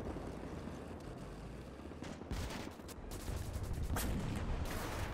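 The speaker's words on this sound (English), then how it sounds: "here comes another artillery barrage" An artillery barrage in the World War II game Gates of Hell: Ostfront rumbles as a dense, continuous roll of distant blasts and gunfire, swelling louder toward the end, with no voices.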